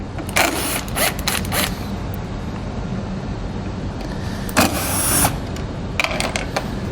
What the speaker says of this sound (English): Next we're going to take a T15 Torx bit. We're going to have a bolt here and a bolt here we need to remove.